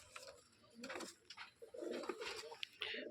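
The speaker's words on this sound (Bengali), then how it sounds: "নর কবুতর" A male Rajshahi Giribaz pigeon coos softly nearby, its low, throaty calls repeating in short, uneven phrases over quiet background noise.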